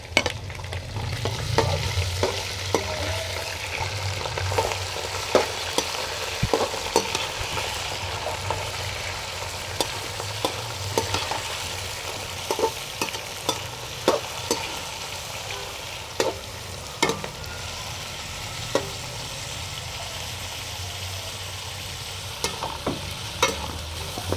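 Meat fries in a hot pan with a constant close sizzle, punctuated by sharp clicks and scrapes of a spoon stirring against the metal throughout.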